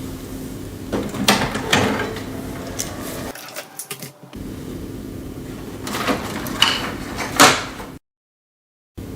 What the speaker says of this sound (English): let's open the ink access door